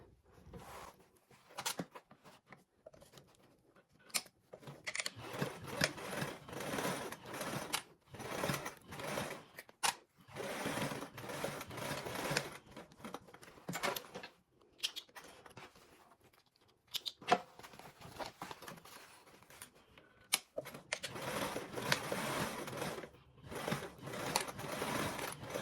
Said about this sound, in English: we're going to go ahead and stitch both of these sides with a 3/8 seam allowance